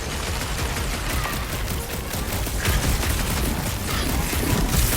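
Gunfire in Marvel's Guardians of the Galaxy rattles in dense, rapid volleys of shots that keep going without a break, loud and busy with overlapping bursts.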